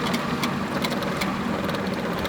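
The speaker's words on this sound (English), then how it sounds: "We'll start the car." A used Honda car engine running with the air conditioning on full blast, a steady, close mechanical idle with a regular rapid knock-like pulsing and no talk.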